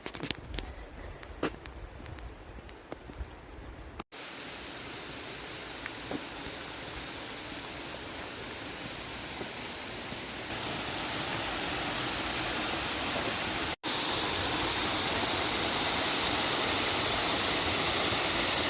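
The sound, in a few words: waterfall in Olympic National Park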